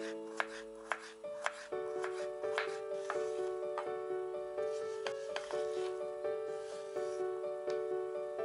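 Knife slicing cucumbers into short julienne strips on a cutting board: faint, evenly spaced chops in a steady rhythm, with soft tonal music underneath.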